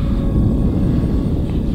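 A Sky Surfer X8 1480mm RC airplane flies close by, giving off a steady, loud, rough motor drone with low rumbling and no gaps, and nobody speaking over it.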